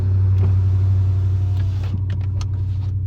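Car engine idling close by, a loud steady low rumble throughout with a few faint clicks and taps over it.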